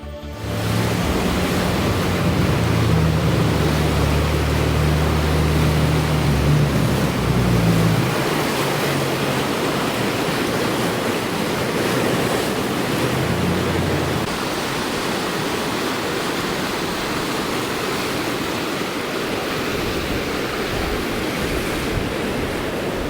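Floodwater rushes through downtown Gatlinburg after heavy rainfall, a constant loud broadband roar like a torrent, with a low engine-like hum under it in the first half.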